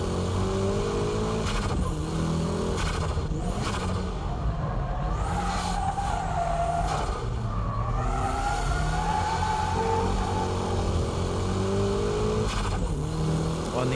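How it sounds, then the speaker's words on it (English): A car power drifting uphill on a winding mountain road, engine revving hard and rising and falling through gears with tire noise, steady and fairly close throughout, with brief talk over it. "And from here, it's power drifting."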